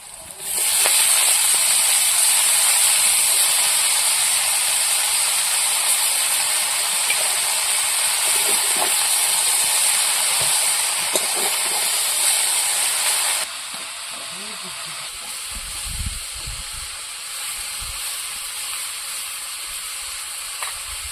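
Arum stalk greens hit a pan of fried onions in a village-style kitchen, a loud, even hiss of frying that drops to a softer sizzle partway through, with faint clattering beneath.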